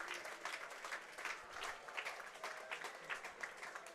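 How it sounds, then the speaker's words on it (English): Hampton and Richmond Borough supporters at a football match applaud and cheer a substitute's debut, a steady distant wash of clapping from the stands, fairly faint throughout. "Listen to that cheer from the Hampton and Richmond Borough faithful as Rohan Ince makes his first appearance for the Beavers."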